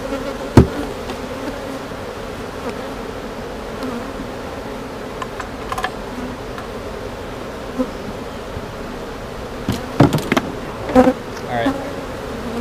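Honeybees from a small nucleus hive hum in a steady, droning buzz close by, with occasional knocks and clicks of handling and a brief spoken word.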